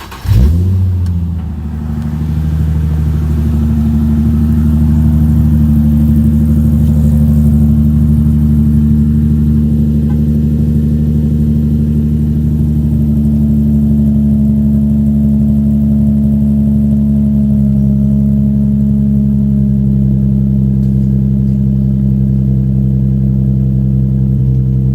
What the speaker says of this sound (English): A cold start.